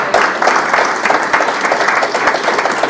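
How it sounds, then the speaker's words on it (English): A conference audience gives a panel on athletes' rights a big round of applause. Dense, loud clapping fills the whole stretch evenly and steadily, with no speech over it. "let's give them a big round of applause."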